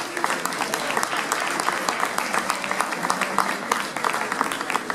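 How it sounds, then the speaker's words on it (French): Crowd at a half-marathon awards ceremony in Beaune claps steadily, a dense moderately distant wash of applause with scattered sharper claps and a faint murmur of voices beneath. "alors un petit peu d'applaudissement quand même."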